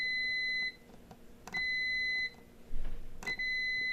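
A continuity tester beeps while its probes touch circuit terminals on a faulty TV LCD panel: three sustained electronic tones, each nearly a second long, separated by short gaps with faint probe clicks, close and clear.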